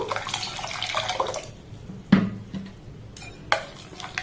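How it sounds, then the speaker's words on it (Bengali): Water is poured into a raw green mango ice cream mixture, a short splashing pour at the start followed by a few brief splashes and drips, close and moderately loud. "তো এখানে আমি আরেকটু জল দিয়ে দেব।"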